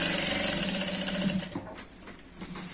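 A sewing machine stitches a trouser waistband with a fast, steady mechanical whir for about a second and a half, then stops, leaving quiet handling noise.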